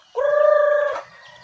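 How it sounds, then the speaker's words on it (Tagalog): A native chicken gives a single loud, sustained tonal call lasting under a second, close by, as the flock is fed Integra 3 feed, followed by quiet background noise. "napakadali lang po magpakain ng native na manok"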